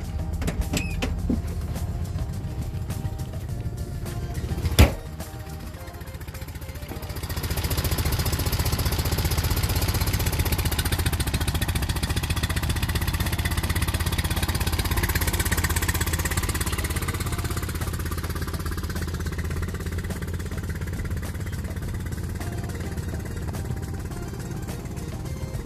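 Engine of a 1972 Fiat 500L idling after a cold start, a steady low rumbling chug that swells slightly after a sharp knock early on, continuing evenly throughout.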